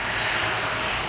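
Grob G 520T Egrett-2 high-altitude reconnaissance aircraft, its turboprop engine giving a loud, steady roar during a brief close pass.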